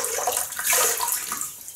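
Hot water splashes and runs while a face is wetted before a shave, a steady soft wash of watery noise that swells briefly in the middle.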